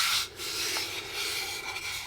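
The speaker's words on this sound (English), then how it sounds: "So I'm gonna keep sanding here." Wood sanded by hand with 100-grit paper, a steady scratchy rasp of back-and-forth strokes, close and fairly quiet, with no voices.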